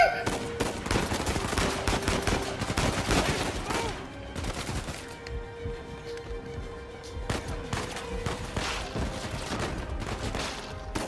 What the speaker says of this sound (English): someone is shooting me